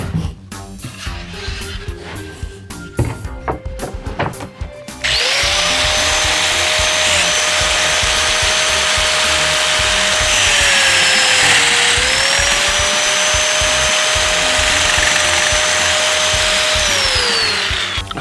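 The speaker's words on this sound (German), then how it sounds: "jetzt fräse ich das Gegenstück vom Beschlag ein" A wood router milling a recess for a hardware fitting in solid wood bed frame parts, 28 mm deep; a few seconds of scraping and handling give way to a loud, steady high whine that dips briefly in pitch mid-cut.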